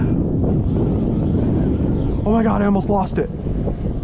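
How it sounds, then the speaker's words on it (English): Steady 30 mph wind buffets the microphone throughout, roaring low and constant, while a person flying a model space shuttle exclaims partway through. "The wind, though, it's 30 miles an hour."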